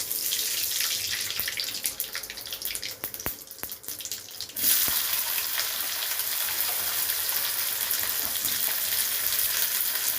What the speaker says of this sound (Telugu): ఆయిల్ హీట్ ఎక్కాక దీంట్లో ఆనియన్స్ కట్ చేసుకొని వేసుకోవాలండి.